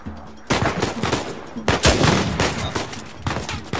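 Gunfire in a video game is aimed at the player. After a brief lull, loud, close shots and rapid bursts erupt, with one especially heavy crack partway through and steady firing continuing to the end.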